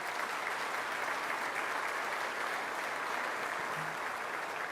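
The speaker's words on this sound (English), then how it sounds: "let's give a round of applause to our leader, Dr. Dewan." Steady audience applause at the opening of a wellness institute in Syracuse, continuous and even for several seconds, heard from a moderate distance without talk over it.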